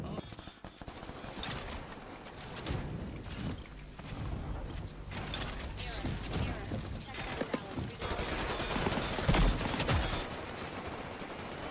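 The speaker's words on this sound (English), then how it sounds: "Where am I getting shot from?" Fast automatic gunfire crackles in the online shooter Off The Grid, in repeated volleys that come in waves and sound fairly distant and muffled, with players talking over the shooting.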